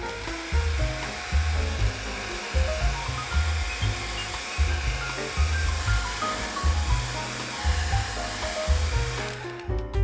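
A hair dryer blows with a steady, loud whooshing roar, its motor hum pulsing slightly throughout before cutting off at the end.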